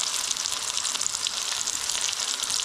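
Fish pakora deep frying in hot oil, a steady bright sizzle and bubbling hiss that runs without a break, close and fairly loud, with no talking.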